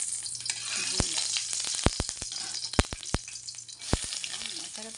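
Onions frying in oil until brown, with a steady close sizzle and a series of sharp clinks from stirring.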